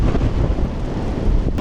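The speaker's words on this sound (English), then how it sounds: "as the wind blows" Strong wind buffets the microphone in a continuous heavy roar on Cotopaxi volcano in Ecuador, loud and gusty with no voices.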